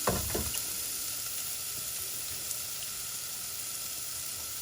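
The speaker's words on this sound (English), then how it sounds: "I'm gonna go ahead and add some onions, just a little bit. Let it cook and brown to your liking." Onions frying and browning in a hot pan, a steady, close hiss of sizzling oil with a brief spatter at the start, constant throughout.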